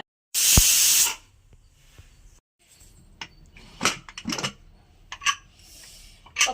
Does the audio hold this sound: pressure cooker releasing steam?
yes